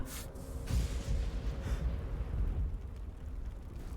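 An explosion booms in a Smite video game trailer, a loud burst followed by a sustained rolling roar that slowly fades over several seconds.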